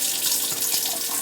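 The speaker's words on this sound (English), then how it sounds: "So all I did was rinse them in water." Tap water runs steadily into a sink while food is rinsed under it, a continuous close splashing hiss with no talking, set in a home kitchen during holiday cooking.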